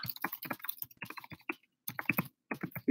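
Rapid clicking of keys on a computer keyboard, typed in short bursts with brief pauses between them, close and fairly quiet, during a livestream.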